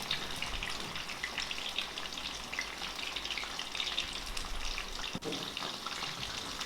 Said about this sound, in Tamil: அளவளவாக போட்டு பொரிச்சுக்கோங்க.